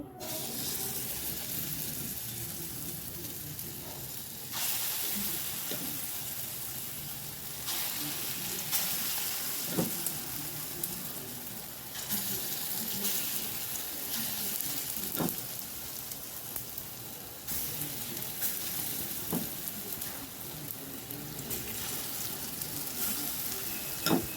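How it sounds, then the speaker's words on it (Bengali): Lentil fritters frying in oil in a wok, a steady soft hiss of bubbling oil with occasional spatula taps, fairly close and unbroken, no voices. "এটা মেখে কড়াইতে তেল দিয়েছি ভেজে নেব"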